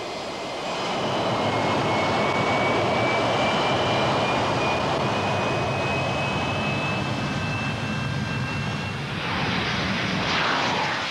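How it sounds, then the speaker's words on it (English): An X-13 jet aircraft flies in level flight, a loud, sustained jet engine roar with a thin whining tone slowly shifting pitch, steady throughout and changing character near the end. "the X-13 flew like a conventional jet aircraft"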